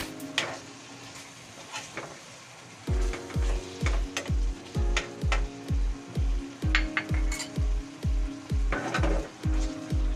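Scrambled egg sizzling in a pan of sapsap fish in sauce, a steady frying hiss broken by a regular series of sharp scraping and tapping strokes from stirring, close and fairly loud.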